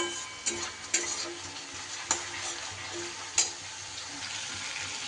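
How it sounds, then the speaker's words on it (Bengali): Ground spice masala fries in a pan with a splash of water for an egg dhoka curry, a steady low sizzle broken by a few sharp taps of the stirring spoon, quiet and close. "আবারও বেশ কিছু সময় ধরে ভালো করে মশলা কষিয়ে নিতে হবে।"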